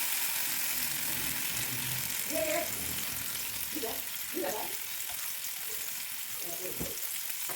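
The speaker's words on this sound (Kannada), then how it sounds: "ನಂತರ ಮೀನು ಹಾಕಿ ಫ್ರೈ ಮಾಡೋಕೆ ಇಡಿ" Fish frying in a pan gives a dense, steady hiss of oil that holds throughout, close and fairly loud, with a few faint knocks.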